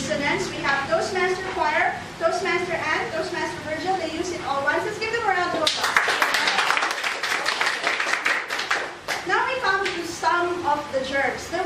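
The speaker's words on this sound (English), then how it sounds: "Let's give them a round of applause." An audience at a Toastmasters club meeting claps in a burst of applause, mid-distance and moderately loud, with people talking before and over it.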